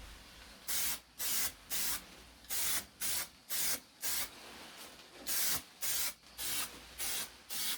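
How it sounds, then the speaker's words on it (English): Filler primer hissing from an aerosol spray can in a run of short, even bursts with brief pauses between them, close and steady, no voices. "Shake the filler well for a few minutes and then spray a thin layer."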